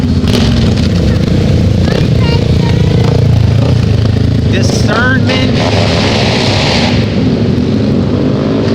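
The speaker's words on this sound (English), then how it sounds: "There's motorcycles." Motorcycle engines rumble and roar loudly nearby, a continuous heavy revving with a person talking over the noise.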